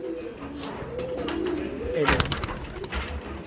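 Tournament-quality pigeons at a loft in Ultadanga make soft, low cooing calls that run steadily through the clip, close by, with rustling and faint background murmur around them.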